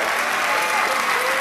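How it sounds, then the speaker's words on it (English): Audience applause at a televised magic competition show as a volunteer is called up on stage, steady dense clapping filling the whole moment, loud and close. "give her a round of applause for her"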